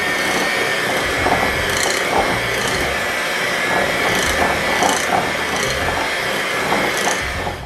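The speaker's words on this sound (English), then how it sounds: "I kept the mixer going for about 2 minutes there, scraping the sides down in between" Electric mixer beating cake batter with eggs for a Southern crack cake, a steady loud whirring hum running throughout with faint periodic scraping ticks against the bowl, no talking.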